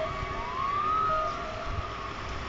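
A wavering police siren sounds faintly through steady background rumble, rising and falling at a distance.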